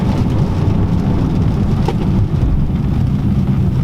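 Heavy rain pounds steadily on a Dodge performance car, a Scat Pack, Daytona, SRT or Hellcat, while it is driven and braked on a wet road, a dense, loud, unbroken roar with no voices.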